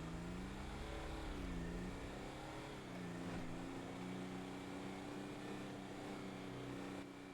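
A small truck engine drones along with a steady tonal hum, rising and dipping slightly in pitch as it drives, muffled and fairly faint at a constant distance.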